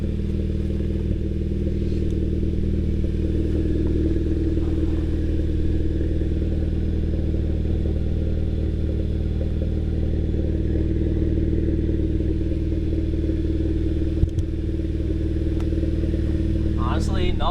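Hyundai Veloster Turbo with a custom axle-back exhaust idles steadily, a low, even engine drone held close throughout with a faint click near the end.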